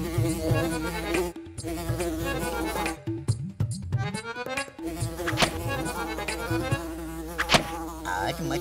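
Cartoon mosquitoes in a Hindi children's animated series buzz in a steady, whining drone that runs through most of the stretch, with brief breaks and layered tonal sound around it.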